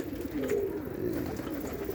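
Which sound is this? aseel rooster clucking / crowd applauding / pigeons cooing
pigeons cooing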